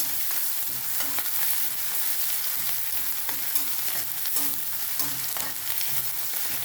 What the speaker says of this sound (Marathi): मिरची आणि हे मी चांगले परतून घेणार